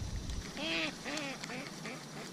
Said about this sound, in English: The ducks are laughing at me.